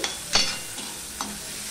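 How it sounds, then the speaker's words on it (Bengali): Onion frying in a pan for a tiffin recipe, with a steady soft sizzle broken by a few sharp spatula scrapes and clacks, close and alone. "এবার পেঁয়াজটা আমি ভালো করে ভেজে নিচ্ছি।"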